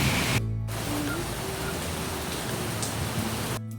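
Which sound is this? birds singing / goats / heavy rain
heavy rain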